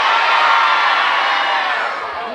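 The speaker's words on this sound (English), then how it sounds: "So let's cheer for our favorite team right now" A crowd of children cheers for their favorite sports teams all at once, a loud, dense wall of shouts and whoops that holds steady for a couple of seconds and then begins to trail off.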